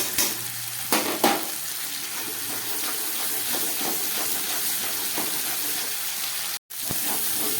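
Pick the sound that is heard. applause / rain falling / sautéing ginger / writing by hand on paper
sautéing ginger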